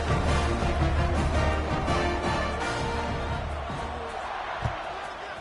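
A stadium crowd in a Madden football video game hums and roars in a broad, steady buzz after a touchdown, with a dull thump near the end.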